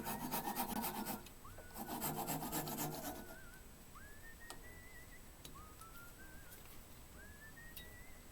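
A woodturning piece is cut off the lathe, probably with a hand saw. Two bursts of rasping strokes sound close, then fainter whistle-like rising tones recur over quiet background hiss.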